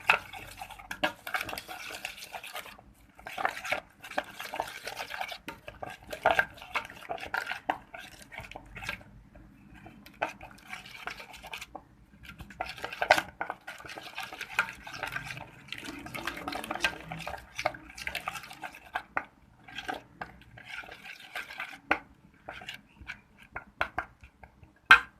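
A spiced chicken kebab mixture is stirred and mixed in a bowl, giving soft irregular squelching and scraping clicks of a utensil, faint and close, with brief pauses between strokes and no voices.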